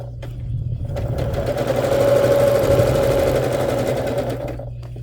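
A sewing machine runs steadily for the whole stretch, stitching fabric layers kept aligned to stop the top fabric from stretching, with a constant motor hum and a slight swell in loudness midway and no talk.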